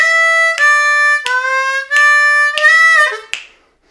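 A D harmonica plays a short bluesy lick of a few sustained draw and blow notes with scoops and bends, loud and close, ending in a sliding fall and then silence.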